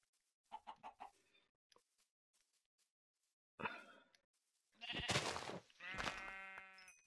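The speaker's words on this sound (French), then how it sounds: "Là-bas, des moutons." Sheep bleat in Minecraft, a few clear calls close by in the second half, following earlier short clucking sounds and quiet gaps, with no talking.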